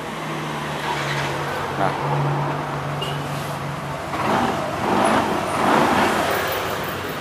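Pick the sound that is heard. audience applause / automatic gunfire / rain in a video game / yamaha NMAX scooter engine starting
yamaha NMAX scooter engine starting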